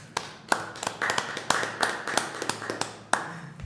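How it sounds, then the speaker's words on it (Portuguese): Scattered hand claps and taps ring out in a small podcast studio, a dozen or so sharp, close hits at an uneven rhythm over a low background hum, with no talking. "Sim, palmas pro chat."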